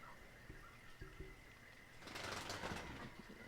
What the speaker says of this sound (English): Birds trying to fly.